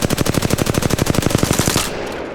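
Rapid automatic gunfire from a weapon in the video game Apex Legends, a fast, even burst of roughly two dozen close, loud shots that stops abruptly, leaving a short ringing tail.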